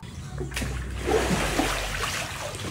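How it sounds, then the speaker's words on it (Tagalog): A child splashes and dives in a small private pool in front of a house, with a sudden splash followed by sloshing, churning water close by and faint voices in the background. "Medyo lumalalim na nga rin yung tubig kaya kita nyo at nakakapagsisid pa nga."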